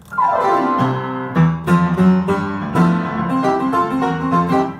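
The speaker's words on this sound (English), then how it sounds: "a glissando, again, is just a slide on the piano" Piano notes sweep downward in a quick slide, followed by bright chords and runs played at a lively pace.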